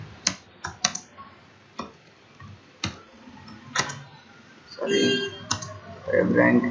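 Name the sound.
typing a search into a web store search box on a keyboard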